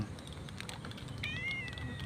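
A pet cat gives a single drawn-out meow midway, fairly close but soft, with faint tapping and room noise around it and no talking.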